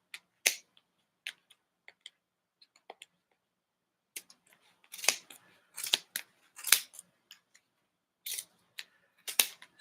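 Scissors snip around fringe pieces made for a yarn craft design, giving close, crisp clicks, first sparse and single, then quicker clusters of cuts in a quiet room with no talk.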